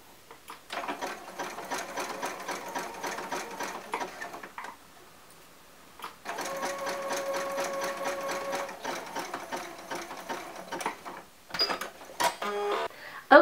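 A sewing machine zigzag-stitches binding onto a baby t-shirt neckline, two runs of fast, even mechanical whirring and ticking separated by a short pause, then a few brief stops and clicks, close and without talk.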